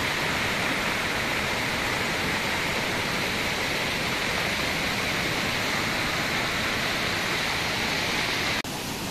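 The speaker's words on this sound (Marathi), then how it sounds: "वरून जो नाला आहे अगदी तुडुंब भरून वाहतोय बघा" A rain-swollen nala in flood rushes past close by, a loud, unbroken roar of churning water that holds steady from start to finish.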